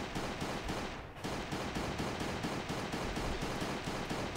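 Modded Glock fire in the survival video game Last Day on Earth: rapid, evenly spaced shots in a steady string, fairly quiet but dense, with no talking.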